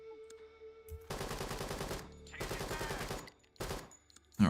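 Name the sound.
gunfire, blind fire in a video game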